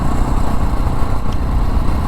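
A Jawa 42 Bobber motorcycle engine runs steadily and loudly up close, a continuous throbbing rumble with no talk over it.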